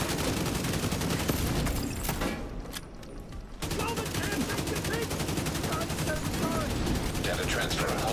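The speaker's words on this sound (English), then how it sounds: "You know what? I'll shoot the server first, actually." Rapid video-game gunfire aimed at a server inside a facility, dense bursts running almost continuously, loud and near, with a brief drop partway through before the shooting resumes.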